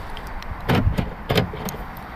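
Two short mechanical clunks sound a moment apart as a Volkswagen Bora's door locks actuate to unlock, against a quiet background.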